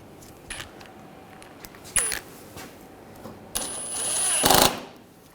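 Small screws being driven and tightened into the washer fluid filler neck of a 2007-2013 BMW 328i, heard as a few short bursts of power-tool whirring, with the longest run near the end, over a quiet background.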